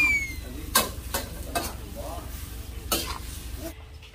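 Sweet peppers stir-fried in a pan, with steady sizzling under repeated scraping strokes of a spatula against the pan, close and fairly loud.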